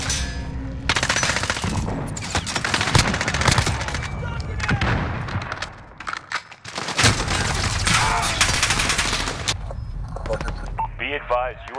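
Rapid automatic gunfire and heavy bursts from a first-person shooter team deathmatch battle, loud and nearly continuous with brief pauses, with a voice speaking over the shooting near the end.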